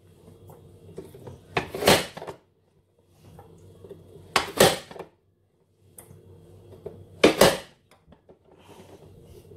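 Cucumber being chopped in a hand-operated vegetable chopper, three separate loud bursts of rapid clattering blade strikes inside a plastic container, each about a second long and separated by quiet gaps, close up with no talk.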